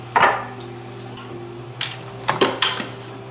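Utensils scrape and clink against a bowl while pineapple cheesecake batter is mixed, several short, close knocks and scrapes separated by pauses, with no talk.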